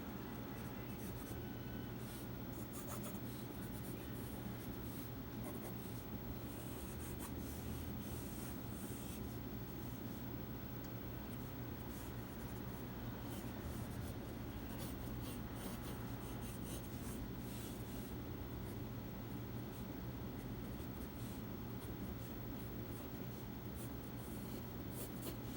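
Pencil scratching across paper while drawing a large sneaker, a steady soft rubbing and scribbling texture that runs continuously, close up, over a low constant room hum.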